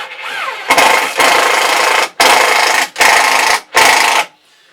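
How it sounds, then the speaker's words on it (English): An impact driver whirs and hammers a screw in four or five bursts of about half a second to a second each, loud and close, separated by brief pauses. "it's basically turning and pushing the drill in, the screw in at the same time, which is called an impact driver"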